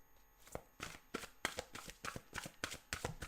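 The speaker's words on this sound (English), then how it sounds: "Main spread, let's shuffle them up." A deck of tarot cards is shuffled close up, giving a series of quick riffling bursts in an uneven rhythm.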